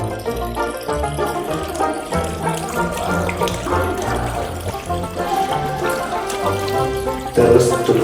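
Water running from a tap into a sink during handwashing, a steady splashing flow under background music, fairly loud and continuous, ending as the tap is turned off with an elbow.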